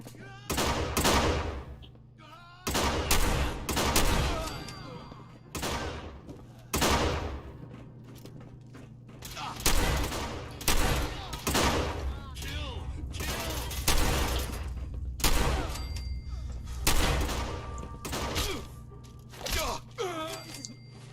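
Shotgun fire in the video game Fallout 4: repeated loud, sharp blasts with ringing tails, spaced a second or two apart over twenty seconds, with game noise and a voice mixed in.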